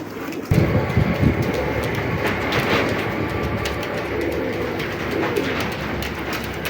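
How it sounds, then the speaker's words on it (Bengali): A male racing pigeon coos nearby in low, repeated calls over a steady rumbling background, with no speech. "আমি ডাকটাও দেখাই দেই, কবুতরটা খুবই পাগলা একটা নর"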